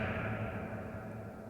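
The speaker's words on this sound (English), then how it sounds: "you can switch to reverb type, and we'll try cavern." A cavern reverb effect on a Bose ToneMatch mixer spreads a thick, sustained wash of reverberant tone through the whole short moment, steady and fairly loud with a lingering cave-like tail.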